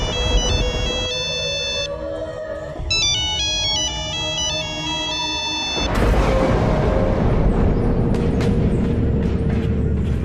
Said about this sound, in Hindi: तभी उसे राजू के उसी फोन पर एक कॉल आती है।